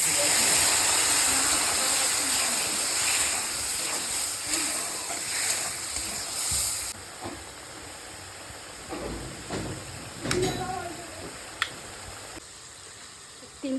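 Water is poured into spice paste frying for a dhaba-style egg curry. A loud, steady steaming hiss lasts about seven seconds, then settles into quieter sizzling with a few light clinks.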